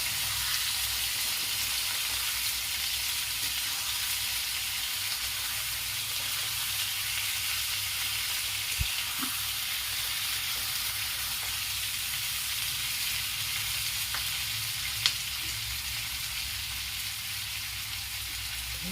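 Chicken masala with onions and two dried red chillies frying over a medium flame, Bihari style: a steady, even sizzle throughout, with a couple of faint clicks and no voices.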